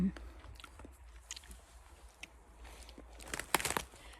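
Close, soft crunching bites and wet chewing of wild cloudberries picked in a Norwegian forest, quiet and intermittent, with a few sharper bites near the end and faint vocal sounds in the background.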